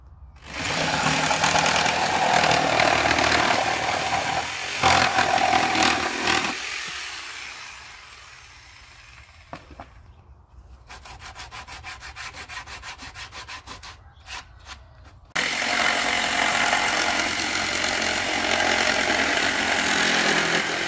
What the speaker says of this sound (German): Wir müssen jetzt hier gleich sägen.